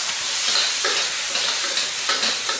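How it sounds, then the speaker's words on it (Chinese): Hot green peppers, onion and sliced pork kidney stir-fried in an oily wok give a steady, loud sizzle, broken by several scraping stirs and tossing bursts, with no voices. "翻炒出锅。"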